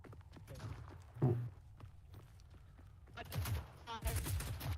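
Gunfire in the video game Affray comes as a sharp crack followed by later bursts of rapid shots, faint and partly under a talking voice.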